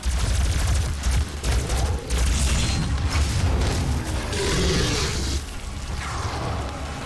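Dense, rapid gunfire and booming blasts from the video game DOOM, with shots at a Cacodemon, loud and continuous with mechanical clanks, no talking.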